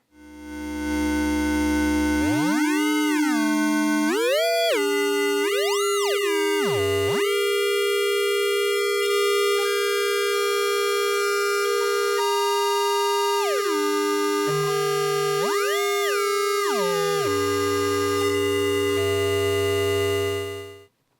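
Two oscillators of an Intellijel Shapeshifter combined into a gritty, digital-sounding mix: sustained harmonic synth tones that repeatedly swoop up and down in pitch, loud and alone with no voices.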